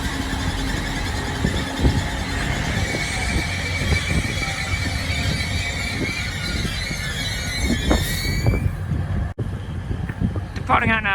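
A Grand Central passenger train to London King's Cross departs Northallerton station with a loud, close engine rumble, metallic wheel squeals and rising tonal whines building toward the end.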